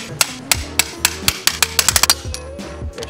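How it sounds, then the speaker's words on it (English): Metal clanks under a hammer as a part is knocked off a car's throwout bearing: a dozen or more sharp ringing strikes, irregular at first, then quicker bursts, close and loud. "So we have to take this and hammer it off."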